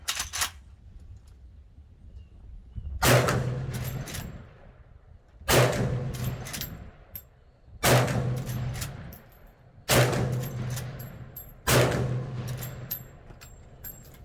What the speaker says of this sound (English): All right, let's see how she shoots.